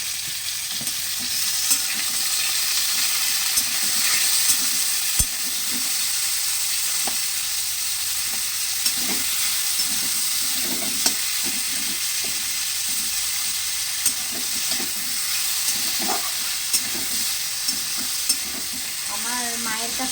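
Tomatoes with salt frying and being stirred in a pan, a steady close sizzle with repeated scraping stir strokes throughout and no talking.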